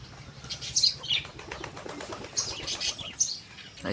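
Several bursts of pigeon wings flapping, with a few faint chirps, over soft outdoor background noise.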